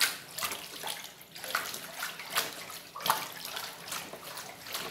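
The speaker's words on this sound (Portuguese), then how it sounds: "E eu vou continuar mexendo." Liquid coconut soap mixture with ethanol being stirred, giving steady sloshing, swishing water sounds with rhythmic surges, close and moderately loud, no talking.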